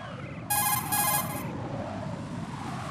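A cell phone rings in Metal Gear Solid 2: Sons of Liberty, a single bright electronic trill lasting about a second over a low, steady game background hum.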